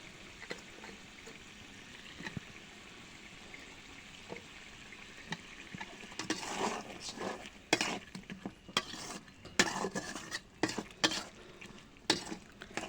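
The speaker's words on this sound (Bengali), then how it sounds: "এখন আমি মাছগুলো কষানোর জন্য দিয়ে দিচ্ছি।" Tilapia fish and masala cook in a pan, starting as a quiet background sizzle. Later, loud bursts of spatula stirring and scraping come in irregular clusters.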